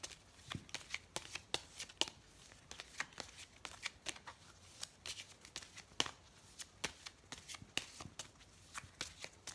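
Oracle cards being shuffled for a card reading, a dense run of crisp riffling snaps and slaps at close range, fairly quiet and steady across the whole stretch with no talking.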